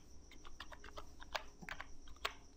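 Someone types a word on a computer keyboard during a video-editing session, with quick light key clicks in an uneven run and a couple of sharper taps, fairly quiet and close, with no talking.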